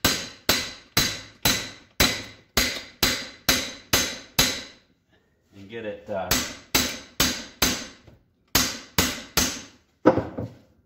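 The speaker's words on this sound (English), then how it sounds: "grab your hammer, knock on the back side" Sharp, rhythmic hammer blows on the back of a tire bead breaker ring out in quick runs while changing a tractor tire. A brief pause with someone speaking breaks the runs before the pounding resumes.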